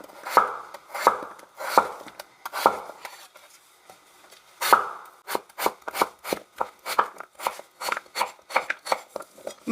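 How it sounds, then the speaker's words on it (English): A knife chops potatoes on a cutting board in a home kitchen, sharp close knocks coming in an irregular series at first, then a faster steady run of cuts near the end. "By the way, you can cut the potatoes into cubes."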